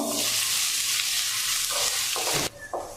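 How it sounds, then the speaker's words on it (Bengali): Ginger paste frying with a spice tempering in hot oil, giving a loud, steady broadband sizzle with a few stirring scrapes, then a sudden drop near the end to quieter intermittent sizzling. "এখন এই আদাটা ফোড়নটার সাথে কিছুক্ষণ ভেজে নিব"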